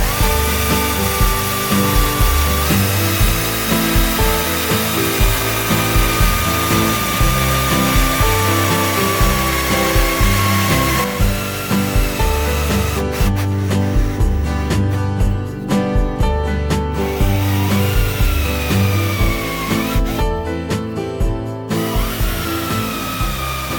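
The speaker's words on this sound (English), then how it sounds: "So that's the 18 holes drilled." A power drill bores holes in a sycamore wood bowl with a continuous loud whirring and grinding. The pitch wavers slightly and there are brief breaks in the cut along the way. No one speaks.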